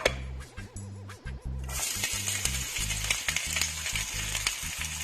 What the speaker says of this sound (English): then I'm gonna add in my onions and my garlic